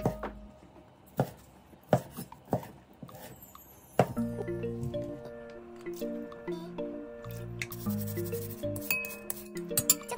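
Kitchen knife cutting a shaped ball of cheese, egg and chikuwa into four pieces on a board, a few sharp separate chops near and clear early on, then light clinks and soft handling sounds as preparation continues.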